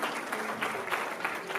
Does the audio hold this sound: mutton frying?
no